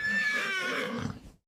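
A single horse whinnies loudly and close, a high shaky neigh that trails off into a lower snorting tail before stopping.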